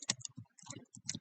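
Typing on a computer keyboard, a quick burst of close, crisp key clicks in an uneven rhythm with short pauses between strokes.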